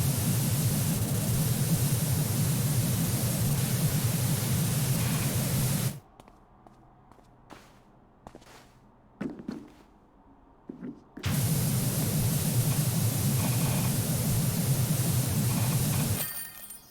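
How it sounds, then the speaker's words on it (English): Pressure washer spraying in the video game PowerWash Simulator while cleaning a wagon and statue: a loud, steady hiss of water jet that cuts out for several seconds, with faint scattered sounds in the gap, then resumes just as strongly. "Spray, spray, spray, spray, spray."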